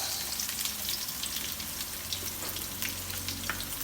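Onion sautéing in oil in a pan makes a dense, continuous crackling sizzle, fairly close and steady, with a faint low hum underneath.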